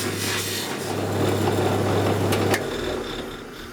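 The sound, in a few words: polishing guitar fret ends on a polishing wheel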